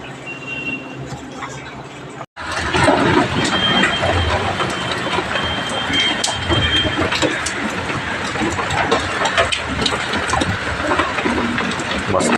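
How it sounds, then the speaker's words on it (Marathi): Heavy rain pours down while a strong wind thrashes the trees. After a brief cut at the start, it holds as a loud, steady, close wash of noise. "मस्त पाऊस पडतोय जोरात एकदम, आणि वाराही जोरात सुटलेला आहे"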